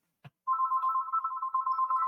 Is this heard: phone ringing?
yes